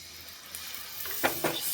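Tamarind water poured into sizzling fish curry masala in oil with green chillies, giving a low frying hiss with a couple of brief splashy surges and stirring clinks near the end.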